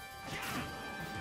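A smash attack lands in a Super Smash Bros match, a single quick crashing thwack with a short whooshy burst, faint and brief, with no voices.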